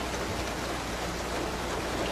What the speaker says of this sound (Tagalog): anong itsura ng ulan ngayon habang bumabagsak?